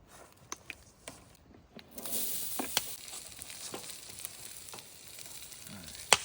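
Small diced potatoes fry in avocado oil in a pan over a campfire, with a steady close sizzle that swells after a brief quiet start, broken by a few sharp scrapes and knocks of stirring.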